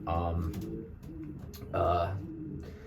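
Pigeons cooing inside a breeder loft fitted with nesting boxes, low throaty coos rising in two fuller bursts over a steady murmur of the flock.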